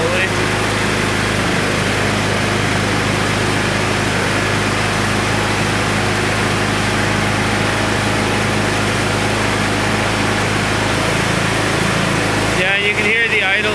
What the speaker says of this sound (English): You can hear the idle increase.